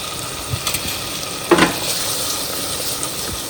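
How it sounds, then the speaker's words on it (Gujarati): A spoon gently stirs stuffed onion curry in a pan, soft sizzling underneath a few brief scraping knocks, one louder clatter midway, close and without talk. "હવે ધીમા ચમચી આપણે આ શાકને હલાવવાનું છે, નહીં તો ડુંગળી છે ને એકદમ તૂટી જશે"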